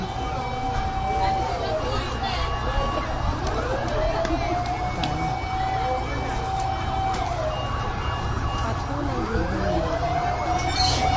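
Several fire truck sirens wail and rise and fall over one another, loud and steady, at a market fire in Santa Cruz, Laguna, with people talking nearby and constant street noise underneath.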